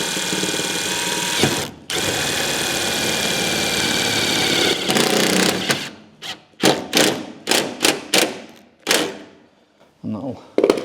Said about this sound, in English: I'm just going to fire a tech screw in there.